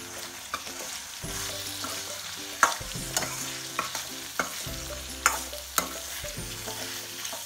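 Goat liver and paneer gravy cooks over a slow flame in a pan, giving a low bubbling sizzle. Sharp spoon clinks and stirring scrapes come every second or so, with a gentle musical tone underneath.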